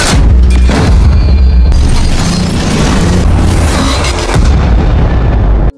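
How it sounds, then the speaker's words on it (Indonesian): Tank cannon fire in a war film battle scene as Panzer tanks are knocked out, heavy booming blasts and explosions rolling continuously and loudly throughout, dense and unbroken with no talk. "Dua tank Panzer berhasil ditumbangkan hanya dengan satu munisi kinetik."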